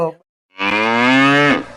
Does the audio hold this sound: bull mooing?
yes